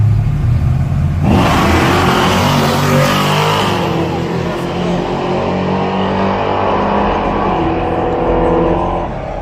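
A Ford Mustang roars down a drag strip in a race against a heavier Camaro, engine loud and sustained as it accelerates hard, with crowd noise beneath.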